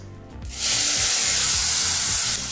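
Tomato, dried red chillies and curry leaves hit hot oil over a medium flame and burst into a loud, steady sizzling hiss that holds evenly for about two seconds, with light clatter beneath.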